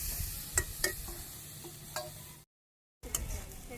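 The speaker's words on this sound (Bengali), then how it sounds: "জিরেও ভাজি করে নিই একটু কষিয়ে নিই এর সাথে মশলার সাথে" Lentils and spices with cumin frying in oil in a pan, a faint close sizzle broken by scraping stirs from a utensil, with a short gap of silence before stirring resumes.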